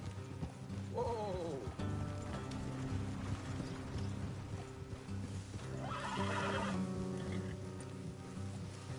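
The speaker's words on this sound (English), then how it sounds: "Feed the horses here and go the rest on foot." A horse whinnies loudly near the start in Red Dead Redemption 2, then another neigh later, over steady clip-clopping hooves and a constant low rumble.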